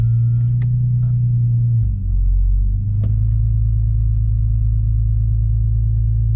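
An Infiniti G35 engine, just fitted with a new bank 1 cam sensor, cranks and catches, then settles into a steady low idle rumble close by, with a few light clicks and no talking.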